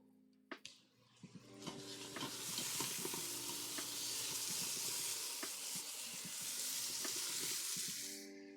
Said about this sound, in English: Veggie sizzle.